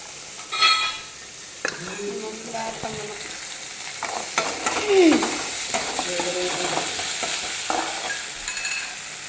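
Mutton frying in a pan with onions and tomatoes, a steady close sizzle broken by scraping and clinking stirs of a spoon against the metal, with a voice speaking briefly over the cooking.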